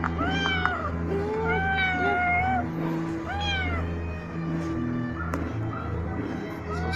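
A cat meows repeatedly, several drawn-out calls close by, over a low steady hum in the background.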